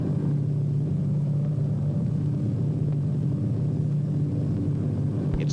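A 1940s propeller airliner flies over a big city with tall buildings before landing, its steady low engine drone filling the whole stretch at a constant level.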